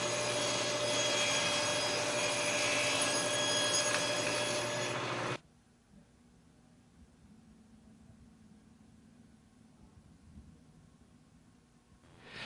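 A wooden cleat on a table saw scrapes along the guide arm with a loud steady rasp for about five seconds, then stops abruptly, leaving a quiet hum and faint shop noise.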